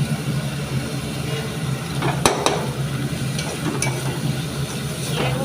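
Boiled taro leaves stirred in a pan with ginger paste, dried chilli and five-spice tempering, a steady sizzling hiss with a few faint scraping strokes, no talk.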